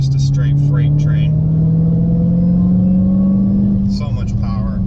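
A Dodge Challenger Hellcat Redeye Widebody with a couple of bolt-on modifications rumbles loudly and steadily, its engine note climbing gradually as it pulls, with brief voice sounds near the start and end.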